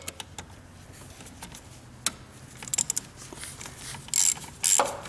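Ratchet with a 1/2-inch socket working a fuel filter nut on a 2006 GMC Sierra Duramax diesel, quick bursts of close metallic clicking pawl sounds between brief tool knocks, no talking.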